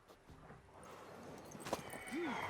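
Video game horse hooves clip-clopping at a steady pace, joined near the end by a short whinny, over a low ambient hum.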